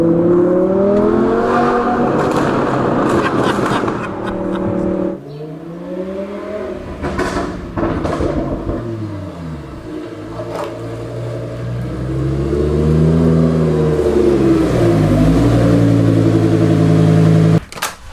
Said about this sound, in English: So we can get some crackles going at least.